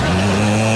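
Motorcycle with a loud aftermarket exhaust revving up close, a harsh, buzzing engine drone held steady and loud for under a second with no talk over it.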